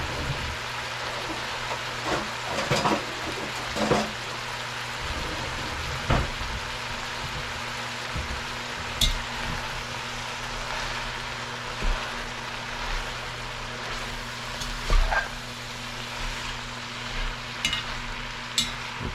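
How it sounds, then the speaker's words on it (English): Mushroom soup ingredients searing in a pot on sear mode give a steady close sizzle, with scattered stirring clatters and scrapes throughout. "putting it on sear mode, and let's let it cook up"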